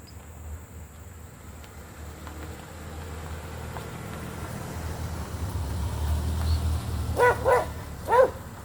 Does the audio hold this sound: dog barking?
yes